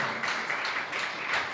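A live audience applauds a performer at a John Denver tribute, a dense, continuous clatter of many hands throughout.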